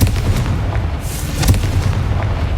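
A Confringo blast spell explodes in the Hogwarts Legacy video game, giving a loud booming burst with a sharp crack in the middle. A rumbling tail follows over continuous low background noise.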